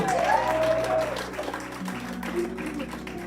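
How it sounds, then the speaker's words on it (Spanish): Church congregation applauding during a Spanish-language sermon, a steady wash of clapping with sustained tones from music or an organ beneath, loud and continuous throughout. "Aplauda al Señor por eso."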